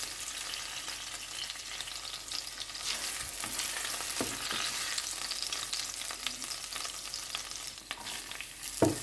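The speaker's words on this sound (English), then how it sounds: "In a heated pan with cooking oil, put the minced pork, by forming it into a mini ball" Minced pork balls fry in hot oil in a pan, a steady close sizzle with occasional crackles and pops throughout, no voices.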